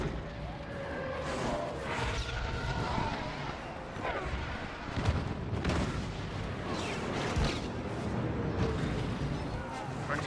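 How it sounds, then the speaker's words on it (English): Heavy ship fire rains down on AT-AT walkers in a Star Wars Battlefront battle, a dense continuous roar of booms, crashes and blasts with voices talking through the din. "Ships are about to fire on our walkers."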